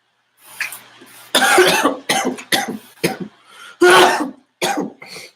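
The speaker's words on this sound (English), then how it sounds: "I still have this cough." A woman coughs hard in a run of separate, close, loud hacking bursts with some throat clearing, spaced irregularly across a few seconds.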